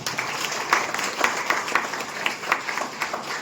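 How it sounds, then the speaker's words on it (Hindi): Steady applause from a crowd, a dense patter of many hands clapping at once with a few sharper claps standing out. "एक बार इसमें जबरदस्त ताली होनी चाहिए।"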